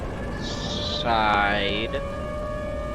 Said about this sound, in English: what is that horrible siren noise?